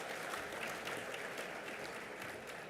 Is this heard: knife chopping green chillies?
no